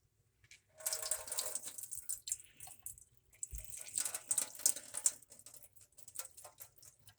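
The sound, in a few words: water draining from a lentil sprouting jar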